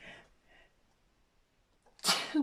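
A single sharp sneeze bursts out near the end, loud and close, after a few quiet breathy sounds.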